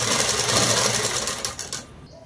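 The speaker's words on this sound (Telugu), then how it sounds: "చూడండి ఇలా కుట్టు వేసిన తర్వాత ఈ చివరికి వచ్చే లోపల ఇలా క్రాస్గా అనేది కుట్టేయాలండి." A sewing machine stitches saree fabric in a fast, loud, continuous whir that cuts off shortly before the end.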